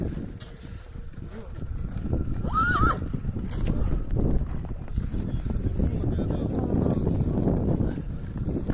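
A Percheron horse nearby with clip-clopping hooves and a brief whinny, over wind noise, while people talk.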